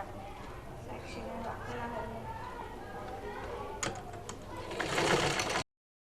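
A sewing machine runs steadily while the side seams of a kameez are stitched, a close, continuous whirring stitch that grows louder near the end and then stops suddenly, with someone talking over it.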